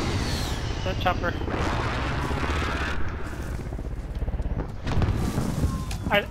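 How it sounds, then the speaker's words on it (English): Gunfire and booming explosions in the battle royale game Warzone as players shoot at a helicopter, loud thuds and bursts layered under a dense rumbling mix, with spoken voices over the top. "People are trying to shoot at that chopper."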